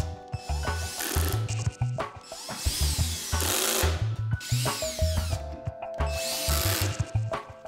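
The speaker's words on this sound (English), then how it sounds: "Now glue and screw the bathroom vanity box together." A power drill drives screws into a birch plywood bathroom vanity box, with repeated bursts of whining motor and rattling screws at close range. Short pauses separate the bursts, and nobody speaks.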